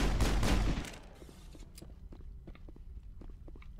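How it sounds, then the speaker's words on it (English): Gunfire in Mass Effect: a loud burst of shots up front that drops away within a second, followed by scattered lighter impacts and clicks at moderate level. "We're not meant to be shooting at each other!"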